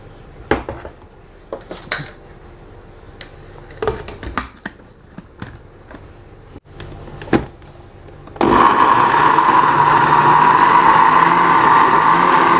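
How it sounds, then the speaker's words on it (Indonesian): Dishes and utensils clink sporadically before a blender kicks on to grind lemongrass and kaffir lime leaves with water, its motor whirring loud and steady for the last few seconds. "Saya tambahkan air supaya blendernya ini kerja dengan baik."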